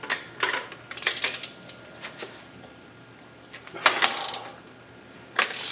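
An aluminum jack handle works loose bolts torqued to 110 foot-pounds during a teardown, giving scattered metallic clanks and ratcheting clicks in short bursts, fairly faint and close, with quiet gaps between.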